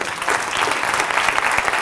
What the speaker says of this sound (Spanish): Javier, un fuerte aplauso.